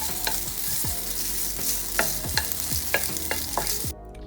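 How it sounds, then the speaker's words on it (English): Fried rice being stir-fried in a wok: a steady close sizzle with repeated sharp scrapes and clanks of the spatula against the pan at an irregular rhythm, no talking. "we're still gonna throw it back into the wok later when we're frying the rice"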